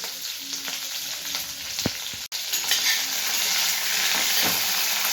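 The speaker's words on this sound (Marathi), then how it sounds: "त्या भाज्या सगळ्या चांगले भाजून घेतली" Mixed vegetables with paneer and capsicum roast in a hot pan, giving a loud, continuous sizzle with occasional stirring scrapes. No one talks.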